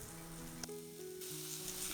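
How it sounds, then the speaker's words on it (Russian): Chopped onion dropped into hot oil in a frying pan, an immediate steady sizzle that stays close and moderately quiet, with a faint tonal hum underneath and no talking. "теперь отправляем нарезанную луковицу на горячую сковородку"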